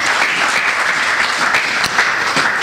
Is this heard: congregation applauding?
yes